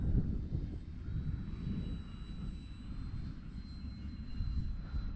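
A Dynam Skytrainer 182 RC model airplane flies in wind, its motor a faint, steady buzz in the distance over rumbling wind noise on the microphone.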